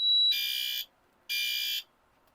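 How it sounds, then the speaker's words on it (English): A fire alarm system sounds in loud, harsh electronic bursts of about half a second each, separated by short silences, and a brief high beep opens the sequence. "And the continuous beep is coming from here, And this is also doing a continuous beep."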